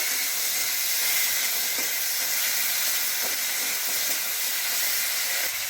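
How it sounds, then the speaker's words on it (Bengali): Chopped tomatoes fry in hot oil with a broad, steady sizzle and hiss, moderately loud and close, and a few faint stirring knocks with no talking. "টমেটোগুলো দিয়ে দেবো তেলের মধ্যে। তেলের মধ্যে দিয়ে টমেটোগুলো একটু নাড়াচাড়া করে ভেজে নেব।"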